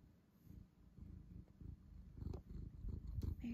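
A low, steady cat purr rumbles close by, with a few soft rustles and bumps over it.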